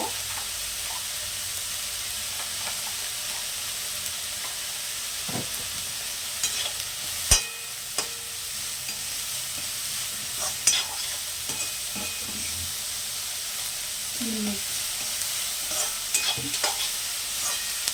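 Onion fries in a pan for beetroot palya, a soft, even hiss with scattered clinks and scrapes as it is stirred.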